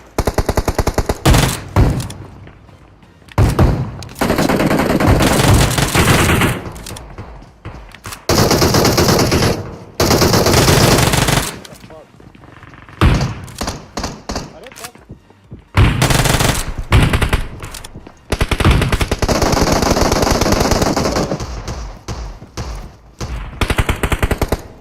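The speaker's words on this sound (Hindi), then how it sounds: "चारों तरफ से गोलियां चल रही थी" Bursts of rapid automatic gunfire in PUBG rattle loudly in repeated volleys, broken by short pauses, with dense overlapping shots throughout.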